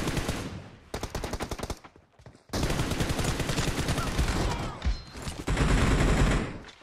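Rapid bursts of automatic gunfire from a battle royale video game, loud and close, firing in sustained strings broken by short pauses, with one brief gap near the start.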